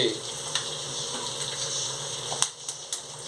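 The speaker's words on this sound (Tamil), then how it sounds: "இப்பொழுது முட்டையை தேவைக்கேற்ப உடைத்து ஊத்தவும்" Egg poured into a hot oiled pan for egg fried rice, a steady close crackling sizzle with a few sharp pops and clinks near the end.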